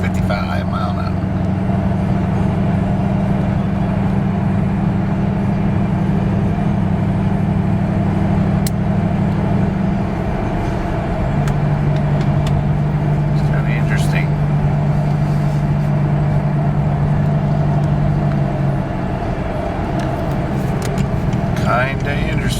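A Chevrolet Caprice cruising at about 55 mph, with a steady low engine and road drone inside the cabin that shifts pitch partway through, while people talk over it.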